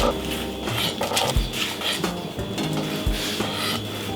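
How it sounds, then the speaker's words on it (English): Knife slicing onions on a cutting board, a run of close rhythmic cuts and soft chopping knocks with rubbing scrapes as the blade passes through. "We'll be slicing today, no dicing."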